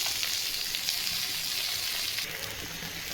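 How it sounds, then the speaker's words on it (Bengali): Fish frying in a pan of hot oil gives a loud, steady hiss and crackle, close up and continuous, with no voices. "এখন মাছ ভাজি নামিয়ে মাছও বসিয়ে দেব।"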